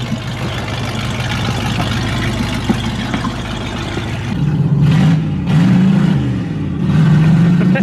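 A car engine idles roughly, then revs hard in three surging bursts that blow out the exhaust, loud and close, each rev rising and falling in pitch.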